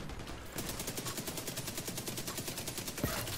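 Sustained automatic gunfire from The Division 2 rattles off in a fast, steady stream of evenly spaced shots for nearly three seconds, loud and close, with a single heavier crack near the end.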